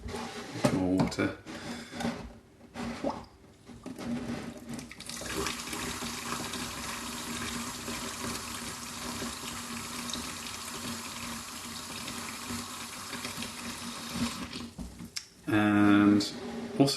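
Water running from a tap while cleaning a primary telescope mirror with an isopropyl mixture, a steady close rush of flow into a sink with brief stops, handling clatter and a voice speaking near the end.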